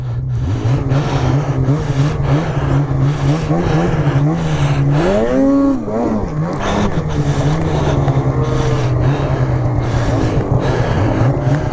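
A 2020 Arctic Cat Riot snowmobile engine roars loudly and steadily close by during a wheelie, holding a strong drone with a brief swooping rise and fall in pitch midway.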